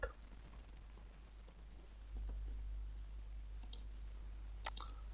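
A few sharp mouse clicks while refreshing and logging out of a Django web page, spaced apart near the end over a low steady hum, with no talking.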